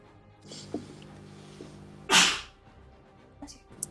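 A single sharp sneeze bursts out loudly and close, amid faint background murmurs and a few small clicks.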